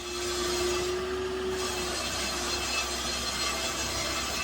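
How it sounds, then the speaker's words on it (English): Sawing through 3/4 inch and 6/4 inch cherry boards for coffee table legs and rails, a steady close rasping and whirring cut that runs the whole time with no talk. "I cut the rails out of 3/4 inch cherry and I cut the legs out of 6/4 inch cherry."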